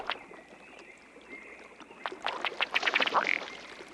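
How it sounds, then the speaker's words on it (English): A ruddy duck drake gives its odd courtship display call, a burping hiccup, heard as a run of short, close popping bursts that grow louder and quicker over the last couple of seconds, with no talk. "The spunky little ruddy duck drake has one of the oddest. His display is sort of a burping hiccup."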